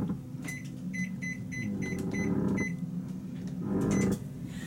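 Several short electronic beeps come from an oven as it is set to preheat to 350 degrees Fahrenheit in a home kitchen while gluten-free chocolate chip cookies are prepared. The beeps are sharp, evenly spaced and close, with a steady low hum underneath.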